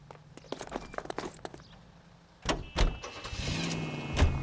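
Car door thuds and a car starting up and pulling away in the video game L.A. Noire, a few sharp knocks and clunks followed by a rising engine hum, with no talking.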